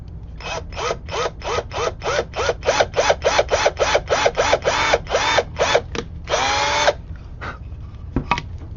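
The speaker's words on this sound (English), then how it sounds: "And then I'm just going to drill my hole." An electric drill drilling a hole whirs in a quick series of short pulsing bursts, then one longer sustained spin, close and loud.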